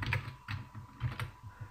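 Several quick keystrokes on a computer keyboard as the @ symbol is typed, a short run of close, distinct clicks in uneven rhythm with no voice.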